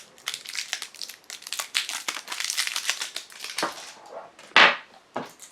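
Crinkly plastic wrapper pulled off a pack of Maxwell AA alkaline batteries, a close run of rustling and crackling with a sharper snap near the end, no voices.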